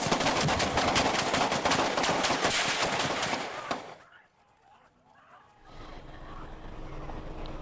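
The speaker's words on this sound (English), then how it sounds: "There was about 10 seconds of gunfire followed by some yelling." Law enforcement gunfire at a U-Haul truck rattles in a rapid, dense burst of many shots, loud and continuous, then cuts out before faint distant activity returns.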